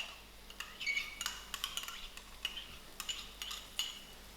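A spoon clinks and scrapes in a pot as yogurt is stirred into prawn biryani masala, a run of light metallic taps and scrapes, near and moderately quiet with no voices.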